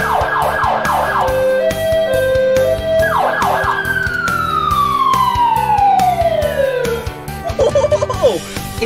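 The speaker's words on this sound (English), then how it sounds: "The siren. Listen." A loud fire truck siren wails nearby, cycling through rapid yelps and a long falling tone, with horn-like blasts and traffic noise around it.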